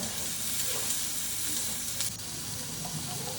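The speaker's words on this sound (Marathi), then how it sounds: "इथं तेलामध्ये जिरं टाकलेले जिरं मोहरी पण टाकू शकता आणि भरपूर सगळा असा कांदा" Onion frying in hot oil with cumin seeds and mustard in a pan, a loud steady close sizzle with faint stirring scrapes throughout.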